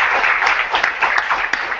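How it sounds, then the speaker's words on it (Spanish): Applause from the audience for the guests at an education talk: a brisk, continuous crackle of many hands clapping nearby, loud and fairly even, with no speech over it. "Un aplauso para ellos,"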